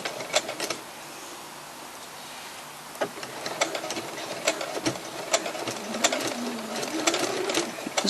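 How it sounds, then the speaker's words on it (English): A sewing machine with a walking foot stitches through thick oven mitt layers, a fast, close mechanical chatter that starts and stops in short bursts, with no voices. "I'll take you to the sewing machine and I'll show you how I'm sewing those up"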